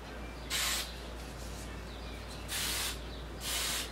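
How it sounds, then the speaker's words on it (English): Three short hissing bursts of an aerosol spray, each about a third of a second, spaced apart over a low steady hum. "just fluff up the hair and lightly spray"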